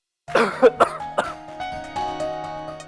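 Student coughing in class, a few sharp close coughs followed by throat clearing, then a faint sustained musical tone underneath.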